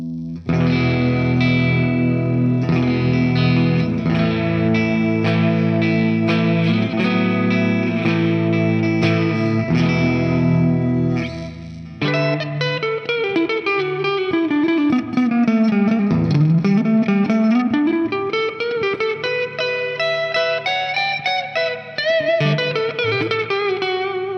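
A Washburn Lyon electric guitar with a clean tone, neck and bridge pickups combined, strums chords, then switches to fast single-note lines with swooping pitch bends, loud and upfront with no talking.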